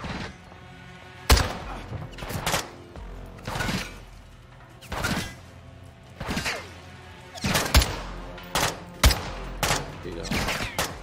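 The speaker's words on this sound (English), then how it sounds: "That's some serious sniping right there" Repeated sniper and rifle gunfire in Modern Warfare 2 during the prison break mission, loud sharp cracks arriving in irregular bursts over a busy battle backdrop of impacts and clatter.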